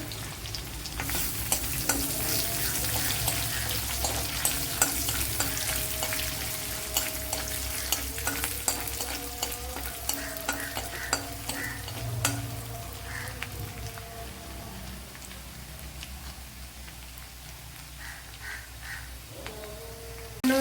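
Garlic cloves and dried red chillies frying in oil in a pan for a Kerala-style ayala mackerel fish curry, a loud continuous sizzle close up, with scattered crackles and stirring scrapes throughout.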